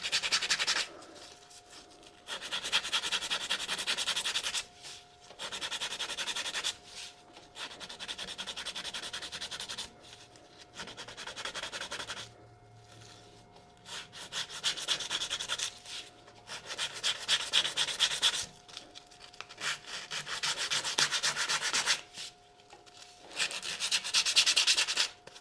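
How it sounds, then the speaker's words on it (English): Coarse sandpaper rubs over a cracked cherry wood bowl on a lathe, with sawdust worked into the surface, making bursts of loud scratchy friction broken by short pauses, with no voices. "take some fairly coarse sandpaper"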